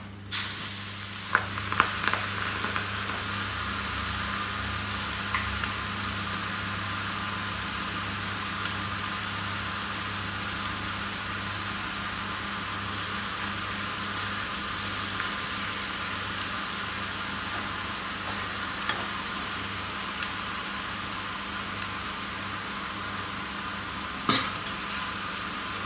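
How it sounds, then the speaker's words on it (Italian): Marinated tuna steak, dusted in starch with the excess sifted off, fries in hot oil with a steady, even sizzle and crackle, a few small pan clinks near the start and one near the end, and no talking. "e friggiamo."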